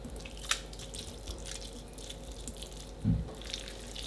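Water squeezed from crumbled food in a vegan kitchen drips into a bowl, a few faint, sparse drops and small wet squishes close by against a quiet background.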